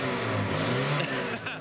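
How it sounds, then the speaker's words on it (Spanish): A Lotus Esprit with a damaged exhaust idles and revs close by, giving a deep, rough, rumbling drone that holds steady and then dips briefly near the end. "Suena como un tanque. Suena como un tanque de guerra. Tendrás que arreglar el tubo de escape."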